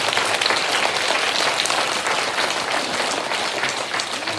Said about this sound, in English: I think that is worth another round of applause.